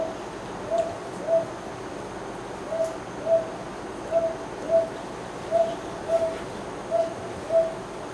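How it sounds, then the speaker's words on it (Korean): A brown hawk-owl calls repeatedly in paired soft hoots, about ten evenly spaced notes at a steady rhythm, moderately distant over a faint background hiss. "솔부엉이 소리 한번 들어볼게요."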